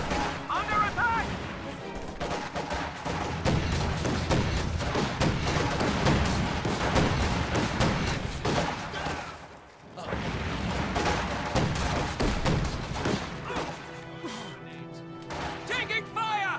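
Gunfire and explosions from a World War II real-time strategy match with a T-70 tank and Sturm Pioneer squads, a dense, continuous barrage of shots and blasts with a commentator talking over it throughout.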